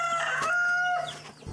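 A bantam rooster of the kind kept for cockfighting gives one clear, close cock-a-doodle-doo crow that rises and then trails off, heard alone with no talking.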